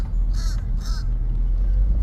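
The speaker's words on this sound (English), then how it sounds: "Where else is he going to see that many birds at one time?" Crows from a large flock at a dump caw loudly, two harsh calls close together over a steady low rumble of background noise.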